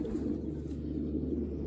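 Racing pigeons cooing steadily inside a loft, a low continuous murmur of several birds layered together, near and moderately loud throughout.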